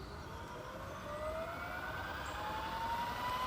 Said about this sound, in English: you just turn it to run. She's going to spool up.